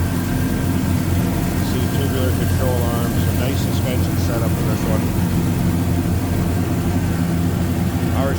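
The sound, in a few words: idling 6.2 liter 535 hp engine of 1962 Chevrolet wagon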